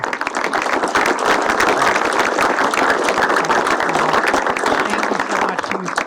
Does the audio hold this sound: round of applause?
yes